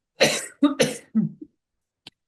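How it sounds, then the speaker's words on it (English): Several sharp coughs close to the mic in a quick cluster, then a brief pause and one small final cough. "I think I'm about to cough."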